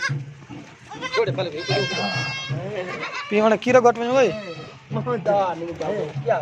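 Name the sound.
goat bleating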